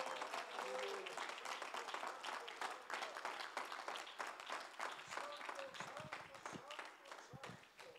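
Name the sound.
applause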